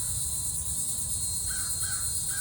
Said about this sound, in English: And the crows are cawing.